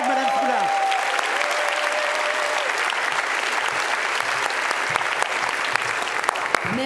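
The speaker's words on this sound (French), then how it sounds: "Acclamons Mme Frula." Sustained applause from a large audience fills a gastronomy awards gala hall, with dense steady clapping and scattered louder individual claps; a brief voice sounds at the start.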